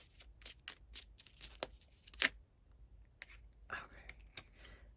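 Tarot cards riffled and flipped over during a Gemini reading, a run of quick soft papery slaps and flicks, close and quiet, with a faint murmuring voice between them.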